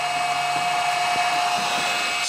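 An electric motor runs on a Huanyang VFD, giving a steady, even high-pitched whine with a constant tone that holds throughout, close and moderately loud, with a few faint clicks underneath.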